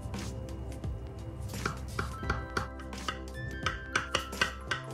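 Knife slicing through a moist Turkish chocolate cake, giving a series of soft cutting and tapping strokes on a board or dish, close and fairly quiet, steady with sharper taps toward the end.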